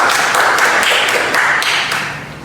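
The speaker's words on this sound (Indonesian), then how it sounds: "Beri aplaus dulu untuk" Applause from an audience at a lecture-style teaching presentation, a steady dense wash of many hands clapping at once that holds fairly loud throughout, then begins to thin and fade toward the end.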